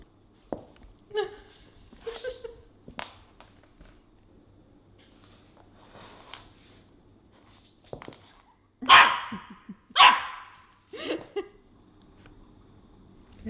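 A new puppy barks on a nine-acre free-range homestead, several sharp separate barks and yips spread through quiet, with the loudest pair near the end and soft background noise between.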